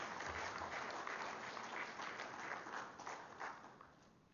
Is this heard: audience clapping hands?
yes